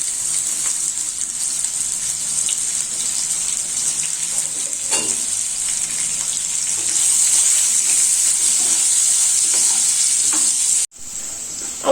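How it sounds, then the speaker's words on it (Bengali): Potatoes with turmeric fry in hot oil, a loud, even hiss that holds steady and grows slightly brighter before cutting out briefly near the end. "আলুটা ভাজা হয়ে গেছে, এখন আমি নামিয়ে নিব।"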